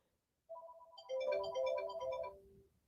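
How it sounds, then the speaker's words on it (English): A telephone ringtone trills in a short melodic electronic pattern, starting alone and then thickening into a louder, denser repeating ring for about two seconds before cutting off. "I apologize for the phone ringing."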